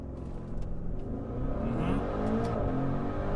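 A 2020 Maserati Levante Trofeo, a 590 hp performance SUV in Corsa mode, pulls a launch-control start, its engine and exhaust note rising steadily in a strong, continuous surge heard from inside.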